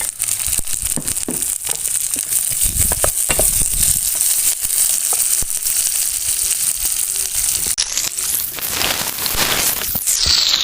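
Shallots fry in a hot pan of oil for chicken biryani, a continuous loud sizzle broken by scraping stirs, with a fresh surge of crackling near the end.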